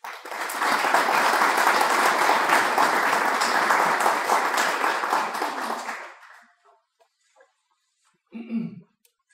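A large lecture audience breaks into loud, sustained applause welcoming the Archbishop, a dense wash of clapping that holds steady for about six seconds and then fades out, followed by a brief low sound near the end.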